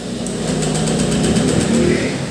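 A Honda Click 125 V2 scooter at 38,000 km, hard to start because of loose compression, gives a steady, close mechanical engine whir that runs unbroken throughout.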